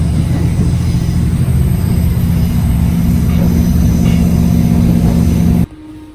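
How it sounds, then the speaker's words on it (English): A passenger train out of Crewe rolls along with a steady, loud rumble and rail noise heard from inside the carriage. The sound cuts sharply to near quiet at the end. "So as we jumped on an early train from Crewe"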